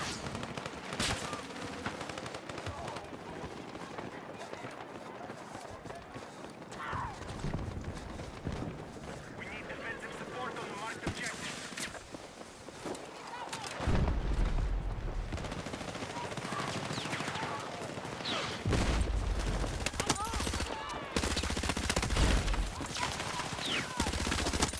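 P90 gunfire in Battlefield 6 crackles in repeated rapid bursts and sharp shots, loud and close, mixed with busy battlefield noise and footsteps for the whole stretch.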